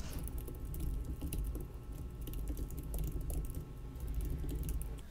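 Typing on a computer keyboard while writing an Nginx configuration, a quiet, continuous patter of rapid key clicks with no talking.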